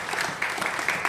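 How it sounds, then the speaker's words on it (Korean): Brief applause from a church congregation thanking the pastor at a closing worship service, a steady wash of clapping at moderate level with small swells and no voices. "박수로 감사를 표시해드리겠습니다."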